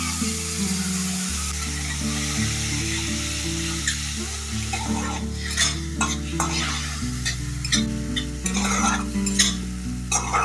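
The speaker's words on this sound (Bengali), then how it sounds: "সামান্য একটু জল দিয়ে মশলাটা ভালো করে কষিয়ে নিচ্ছি" A spice paste of chili, coriander, cumin and ginger with a little water being sautéed for a Bengali raw mango and rohu fish dish, a bubbling sizzle with repeated spoon scrapes and clinks against the pan over steady background music.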